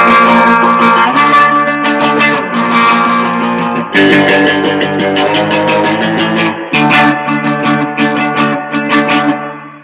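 Loud distorted electric guitar runs through a song's rhythm part, sustained chords changing every couple of seconds with brief gaps and sharp attacks, played solo without voices.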